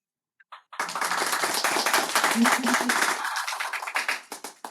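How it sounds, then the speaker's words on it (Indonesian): A church congregation at a prison service claps loudly and steadily for several seconds after a brief pause, the applause thinning out into scattered claps at the end. "Kasih tepuk tangan yang meriah bagi Yesus"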